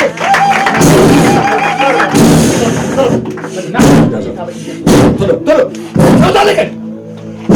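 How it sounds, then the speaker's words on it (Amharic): A worshipping congregation claps loudly for the glory of the Lord, producing dense rhythmic clapping with heavy thumping accents and crowd noise, mixed with raised voices. "አጨብጭቡ ለጌታ ክብር።"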